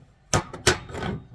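A hammer knocks rocks and debris out of a front-end part from a 1972 Plymouth Valiant, giving two sharp, close knocks followed by a short scraping rattle.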